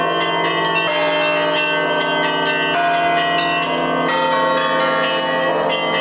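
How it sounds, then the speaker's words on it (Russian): Orthodox church bells ring continuously at the Church of Prince Vladimir during a Honey Savior feast, a loud, dense wash of overlapping tolls and chimes with no speech. "В храме равноапостольного князя Владимира слышен звон колоколов."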